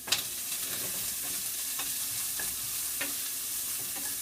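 Chopped onion sizzles steadily in a hot pan while a wooden spatula stirs it, with a continuous frying hiss and occasional soft scraping strokes, close and fairly loud, no talking.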